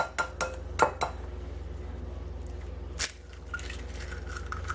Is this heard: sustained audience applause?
no